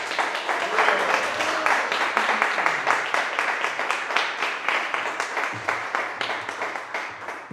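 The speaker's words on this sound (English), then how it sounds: "Let's give her another round of applause." Sustained applause from a crowd, dense steady clapping that carries on throughout at an even level.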